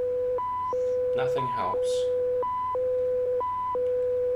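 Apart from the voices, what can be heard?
continuous electronic beeping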